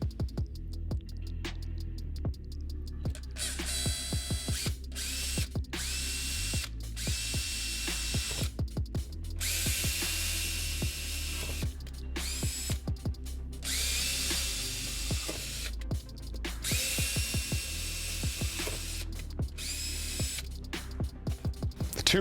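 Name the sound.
electric drill running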